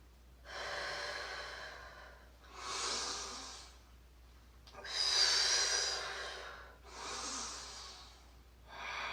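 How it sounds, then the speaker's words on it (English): Four slow, deep breaths during a vinyasa yoga class, each a long audible inhale or exhale lasting about two seconds with pauses between, close and breathy, no talking. "Let's take a couple big breaths."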